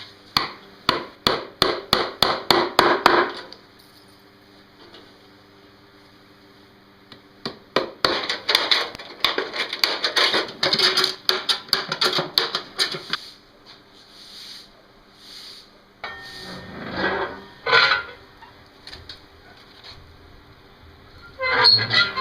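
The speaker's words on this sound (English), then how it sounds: "right now we'll go and we'll cut some wire and get the mesh on the bottom." Wire being cut and mesh fastened onto the bottom of a rabbit nesting box, heard as two runs of rapid, sharp clicking and snapping bursts, then scattered scraping and rubbing noises, all close by with no talking.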